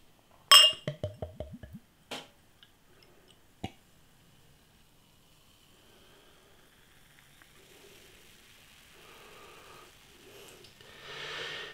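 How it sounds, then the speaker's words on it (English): Brouwerij Emelisse TIPA, a Dutch craft beer, opens with a rapid run of glassy clinks and a few sharp knocks, then a faint fizzing pour into a glass that swells toward the end. "Let's get this lovely sounding beer out into a glass and see what we get."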